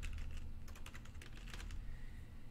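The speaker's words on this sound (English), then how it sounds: "So next we're going to type in Backup and Restore." Quiet, rapid key clicks from typing on a computer keyboard in Windows 10 come in short uneven bursts against a soft steady background hiss.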